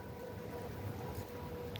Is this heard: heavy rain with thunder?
no